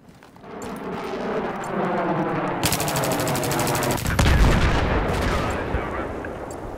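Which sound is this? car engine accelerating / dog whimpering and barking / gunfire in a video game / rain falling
gunfire in a video game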